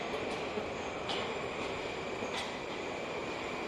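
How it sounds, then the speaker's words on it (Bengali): A Moscow metro train arrives at a station, a continuous low rumbling roar with faint squeals rising over it, loud and near throughout. "অ্যারো মানে এদিক থেকে ট্রেনটা আসবে, এখানে আমরা রয়েছি"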